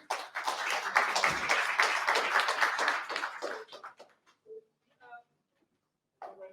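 An audience at a startup pitch competition claps steadily for about four seconds, then the applause thins to a few scattered claps and falls quiet as a voice briefly speaks.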